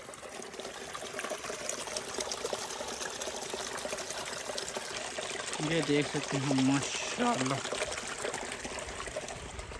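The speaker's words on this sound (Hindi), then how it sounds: "देख सकते हैं कितना जनाब तेजी के साथ पानी आड़ है।" Fast-flowing spring water in Jhelum district, a constant rushing, splashing stream heard close, with someone talking over it.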